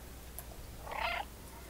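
A cat in the video game Stray gives a brief, soft vocal burst, close by and alone over a quiet background hum.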